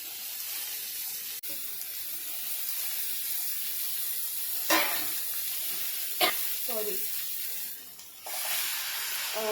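Chopped dill greens tossed into a pan of reddened onion with turmeric and stirred as they fry; a soft continuous sizzle runs throughout, broken by a few sharp scraping strokes of the spoon against the pan.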